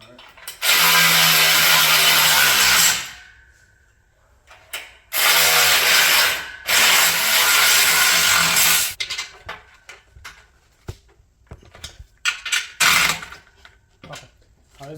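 A power tool drives screws into parts of a Mikolo Smith Machine home gym, Model M3, during assembly. It runs in several loud, steady bursts of a few seconds each, followed by shorter clicks and taps.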